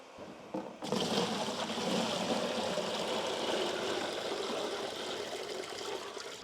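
A scrubber dryer machine sucks up water from a gym floor, starting abruptly with a steady wet, gushing rush that holds fairly evenly to the end, moderately loud with no talk.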